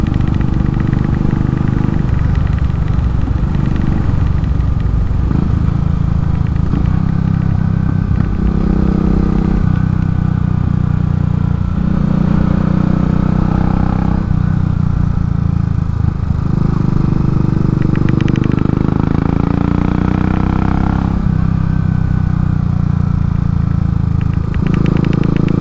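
Royal Enfield Classic 500 single-cylinder motorcycle engine running smoothly on a public road during hard break-in, a loud steady low thrum with rising and falling revs through the range, no talk over it.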